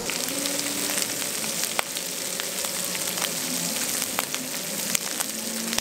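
Rocky Mountain oysters, calf testicles, frying in hot oil, a steady close sizzle with scattered crackles and pops running throughout.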